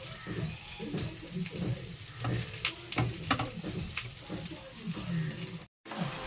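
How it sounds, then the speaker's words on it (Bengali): Poppy seeds and radhuni are ground on a stone grinding slab with a rhythmic, gritty scraping of stone on stone, fairly quiet and close, with a brief gap near the end. "এবার আমি শিলে নিয়ে নিয়েছি পোস্ত আর রাঁধুনি। পোস্ত আর রাঁধুনি আমি বেটে নেব।"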